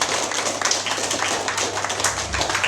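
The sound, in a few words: audience clapping at science quiz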